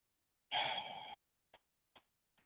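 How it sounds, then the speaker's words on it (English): A single drawn-out yawn, roughly half a second of breathy, airy exhalation, heard close and fairly quiet, followed by three short soft breaths or clicks spaced apart in near silence. "It's that warning yawn"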